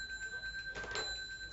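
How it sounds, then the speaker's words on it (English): A car telephone rings quietly in a short electronic trill, a single burst of steady high tones, fairly faint with no talk over it. "He's got a phone in his car."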